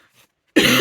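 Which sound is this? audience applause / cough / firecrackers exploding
cough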